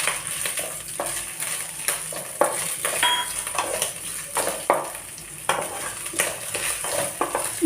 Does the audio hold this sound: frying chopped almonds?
yes